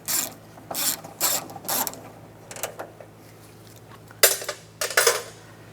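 A ratchet fitted with an 8mm socket clicks in quick bursts while turning bolts on a Dodge Durango front exterior door handle, several short rattling runs separated by brief pauses, close and clear.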